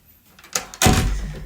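A house front door in an entrance hall with a tiled floor, moving with a brief creak and then a fuller thud and rush of air as it swings or closes nearby, with no talking.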